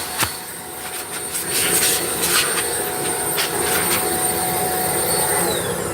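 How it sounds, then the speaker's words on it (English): A small electric air blower bought from Amazon, used in a woodworking shop, runs close by with a steady, loud whirring rush of air that holds level throughout. "So I got this little blower here."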